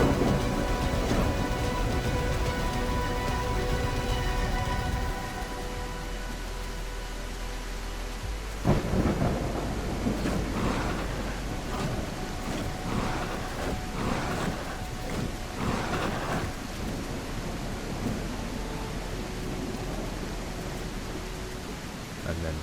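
Steady rain falls at night among thick bushes, a dense continuous hiss with a low rumble underneath, while a person speaks quietly over it for much of the time.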